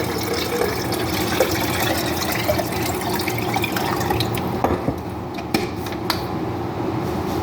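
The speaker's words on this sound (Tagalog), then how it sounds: "Lagyan natin ng tubig." Tap water pours steadily into a container in a home kitchen setting, a continuous splashing fill with a few small clinks near the end, close and fairly loud.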